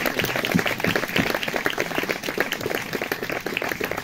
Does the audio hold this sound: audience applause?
yes